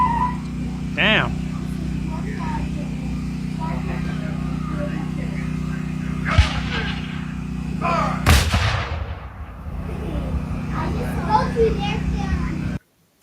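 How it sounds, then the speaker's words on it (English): Cannons firing caps and powder ring out as sharp booms, one mid-clip and a louder, stronger blast a bit later, heard at a distance over a steady low hum, with children's voices and talk in the background. "What are they shooting out of the cannons?"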